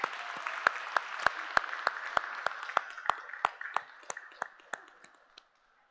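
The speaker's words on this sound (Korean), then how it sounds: "격려 박수 부탁을 드립니다." A church congregation claps in encouragement during a Sunday service, a moderately quiet room of many hands with crisp individual claps over the steady patter, gradually thinning out and stopping near the end.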